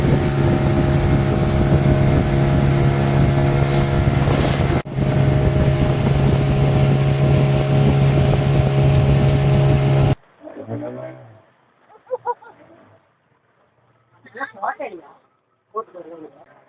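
A loud motorboat engine drones steadily with wind buffeting the microphone on a boat ride in Ooty, then cuts away to people talking over quieter background.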